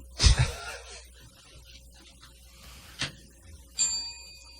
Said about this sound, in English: That's a really limp version of the bell.